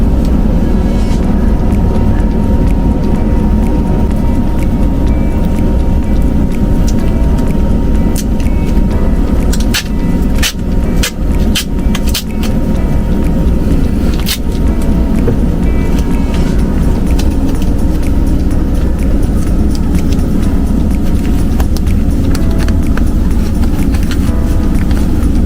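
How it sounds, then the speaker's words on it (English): Air blowing hard out of household ductwork, a steady loud roaring rush that holds throughout with a few brief clicks and knocks partway through. "A lot of air blowing out right there."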